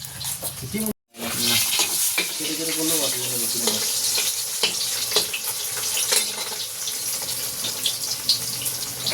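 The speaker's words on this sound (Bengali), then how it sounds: "এদিকে মাছ ভাজা চলছে আমাদের।" Fish frying in a pan at home, a dense continuous sizzle with stirring and scraping sounds over it, briefly cut to silence near the start, no speech.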